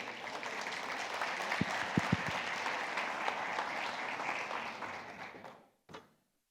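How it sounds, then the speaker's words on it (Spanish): An audience at a conference on digital transformation and regulation gives sustained applause that stays steady for several seconds, then fades out, followed by a single thump like a microphone being handled. "les pido un gran aplauso para don Juan Carlos Bonilla."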